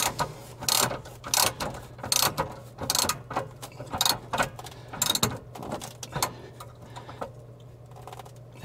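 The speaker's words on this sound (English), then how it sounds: "this takes a 1-inch socket, a little bit bigger than the original one" A ratchet fitted with a 1-inch socket tightens an RV water valve, clicking in repeated bursts of sharp ticks with short pauses between strokes, close and clear over a steady low hum.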